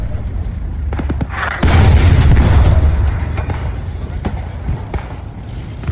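Stuka dive-bomber air strike in a World War II strategy game hits with a heavy, rumbling explosion that swells and then fades, mixed with scattered sharp battle pops and someone talking over it.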